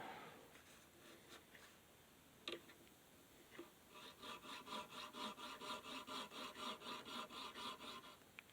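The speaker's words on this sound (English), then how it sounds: "You can feel when the file is cutting. You can hear it too" Rhythmic rasping of a metal file cutting a fret slot on a curved wooden tailtuner, starting with a few scattered scrapes and taps, then settling into steady back-and-forth strokes, close and fairly quiet with no talking.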